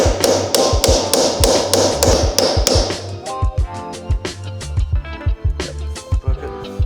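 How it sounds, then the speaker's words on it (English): Hammer or chisel blows breaking a weld on a Porsche RWB: a quick, even run of about eight sharp metallic taps, then looser, irregular clanks and knocks, close and loud. "Need to break this weld."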